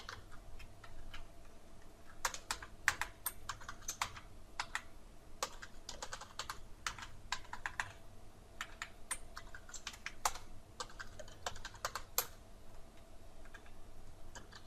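Rapid, uneven bursts of key clicks from a computer keyboard, close and steady over a low background hum, with no one speaking.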